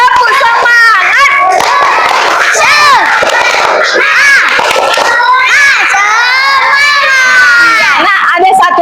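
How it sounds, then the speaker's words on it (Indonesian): A classroom of children doing a rhythmic group spirit clap, loud and close, with lively shouting, chanting and cheering voices mixed throughout over the clapping. "Yuk kita tepuk semangat."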